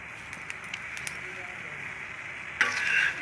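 An egg Maggi roll fries in oil on a pan with a steady sizzling hiss, which swells into a louder crackle near the end as more oil is added around the sides. A voice talks over it.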